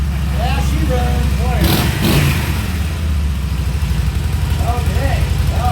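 2013 Harley-Davidson FLS motorcycle engine running close by, a loud throbbing low idle with a brief rev in the middle, and voices talking over it.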